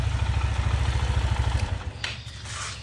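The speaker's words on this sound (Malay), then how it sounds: "sekejap aku tutup motor dulu" An RFS150i motorcycle, back running after an accident and six months off the road, idles with a fast, even pulsing thump, then the engine is switched off and goes quiet, leaving faint background noise.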